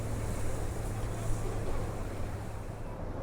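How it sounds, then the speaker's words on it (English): Ocean waves roll in on the shore near San Francisco by the Golden Gate, a continuous broad wash of surf mixed with wind noise, steady and fairly loud. "The waves are really coming up now."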